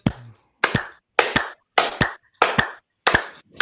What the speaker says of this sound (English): Clap with me again.